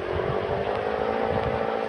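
Motorcycle engine in the Roblox game Brookhaven, a steady continuous drone held at an even level throughout with no clear revving.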